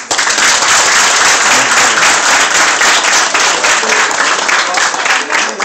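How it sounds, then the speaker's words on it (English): A loud, dense round of applause from an audience at the close of an event, continuous clapping filling the whole stretch with crowd noise beneath. "One last round of applause, please."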